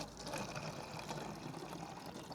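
Water pours into a rubber container with a continuous, steady rushing gush at moderate distance and no clear voices.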